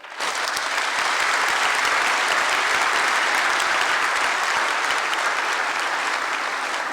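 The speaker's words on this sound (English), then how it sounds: "Give yourselves a round of applause." Graduates at the Parkland College 2024 commencement ceremony applaud in a large hall, a thick, sustained roar of clapping that holds steady for several seconds.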